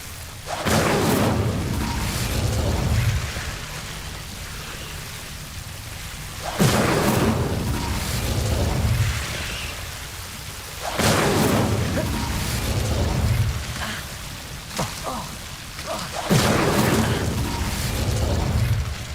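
Incendio, the fire spell in the Hogwarts Legacy video game, is cast again and again, each cast a loud, roaring burst that swells and fades, coming about every four seconds.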